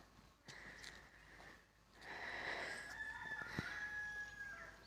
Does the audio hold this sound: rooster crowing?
yes